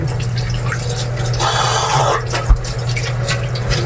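Water poured or dripping into a pet's drinking bowl, a light trickle with a fuller splash in the middle, fairly close, with no talking.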